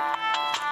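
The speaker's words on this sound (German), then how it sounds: "Oh, mein Handy." A mobile phone rings nearby with a bright electronic ringtone, sounding as three quick, evenly spaced tonal pulses.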